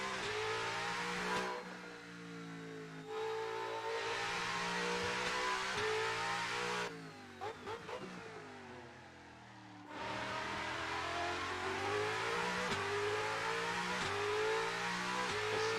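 A Chevrolet Corvette race car with a 6.0 engine revs hard during World Time Attack practice on track, its loud V8 roar climbing through gears with short lifts between shift pulls, passing fairly near with no talking.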